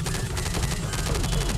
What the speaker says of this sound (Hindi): इसमें तो फायरिंग भी हो रही है